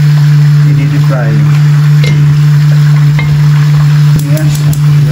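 Chicken pieces, the final batch, deep-frying in hot oil: loud continuous bubbling and crackle close by, with a steady low hum, metal scraping and stirring, and brief clinks of utensils.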